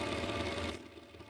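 A sewing machine stitching in short, steady whirring bursts at close range, then easing off as the run ends.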